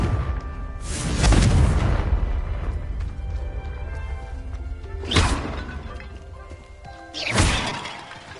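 Confringo blasting spell explosions in a video game: three sharp, loud blasts, a long rumbling one first, then two shorter bursts spaced a few seconds apart, with a low, steady background hum between them.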